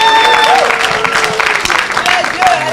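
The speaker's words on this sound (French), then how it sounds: "Acclamez Jésus." A church congregation claps and cheers together in a loud, continuous burst, with voices and sung notes mixed into the applause.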